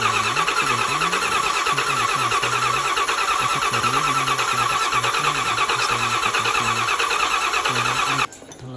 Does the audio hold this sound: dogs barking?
no